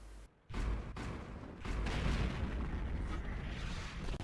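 Tank cannon fire in the World of Tanks video game, aimed at a T-150 heavy tank: a sharp opening shot followed by sustained booming, rumbling battle noise with further blasts, loud and close throughout.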